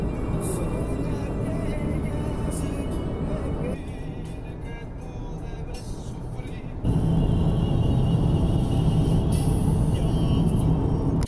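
A car rolling along a country road through fields in Portugal, a steady loud cabin rumble of engine and tyres that dips briefly and then swells again, with faint muffled voices underneath.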